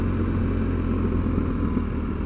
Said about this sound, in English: It's got a lovely throaty sound, isn't it? This engine.